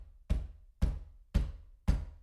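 Four heavy, evenly spaced bangs on a front door, each a deep booming thud with a short decay, loud and close with silence between them.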